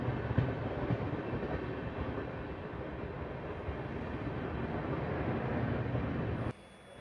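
The 12779 Goa Express passenger train runs on a diverted route, heard as a steady, loud rumble of wheels and rails that holds throughout and then drops off abruptly near the end.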